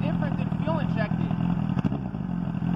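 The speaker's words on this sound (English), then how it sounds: "All right, let's get some of that exhaust note." A carbureted 2002 Kawasaki ZX9 motorcycle running close by, a raw steady exhaust drone with a couple of quick throttle blips, while someone talks over it.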